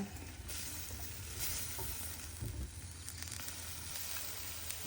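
Chili peppers roast in a pan for an Isan eggplant dip, giving a dense continuous hiss of sizzling with faint stirring noises, steady and unbroken by voices.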